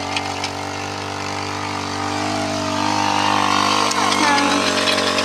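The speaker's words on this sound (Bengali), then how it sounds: "এটা হলো নিড়ানি দেওয়ার মেশিন" A motorized weeding machine running in a farm field, a steady droning engine that grows somewhat louder and rougher toward the end.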